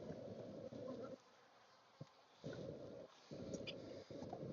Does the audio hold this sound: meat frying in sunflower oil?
no